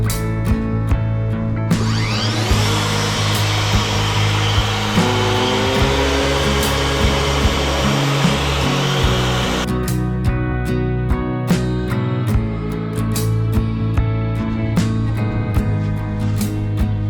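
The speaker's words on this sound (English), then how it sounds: "I hired one of these magna drills, as they call them, so they got a magnetic base" A magnetic-base drill bores steadily for several seconds, a loud, broad grinding whir over a constant motor hum, with scattered clicks and knocks before and after.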